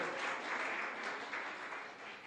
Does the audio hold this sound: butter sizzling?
no